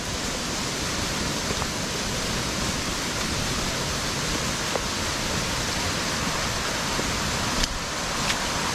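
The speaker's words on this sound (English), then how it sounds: "So the water is coming over the spillway and going out." Floodwater pours over a pond's emergency spillway after Hurricane Floyd, making a dense, steady rushing roar that stays loud and unbroken throughout, with no voices.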